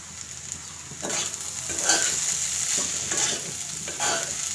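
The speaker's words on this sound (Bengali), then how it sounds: "নেড়ে চেড়ে একটু ভাজি করে নিতে হবে" Yardlong beans with garam masala are stirred and fried in a pan: a steady sizzle runs throughout, broken by a few scraping stirs at regular intervals, close and moderately loud.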